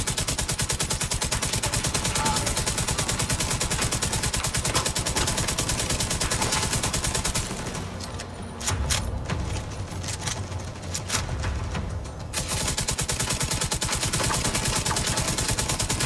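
Rapid machine gun fire in the shooter game The Division 2 rattles continuously in dense bursts, pausing briefly for scattered shots and clatter before the sustained fire resumes.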